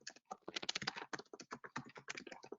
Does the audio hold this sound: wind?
no